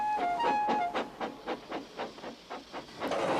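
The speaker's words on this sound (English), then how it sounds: "Here's your freight train, James, said Thomas." Rhythmic chuffing of a steam freight train, a steady series of evenly spaced puffs moving along at moderate volume.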